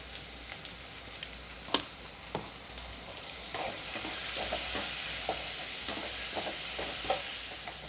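Carrot and cabbage, lightly salted, sauté in a pan with a soft, continuous sizzle, punctuated by a few scraping stirs and faint clicks of a spoon, fairly quiet and without talk.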